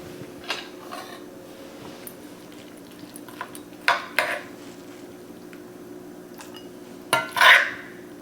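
Smoked mullet, shrimp and corn are spooned into a bowl, with scattered clinks and scrapes of a utensil against the dishes over a quiet background and a louder scrape near the end.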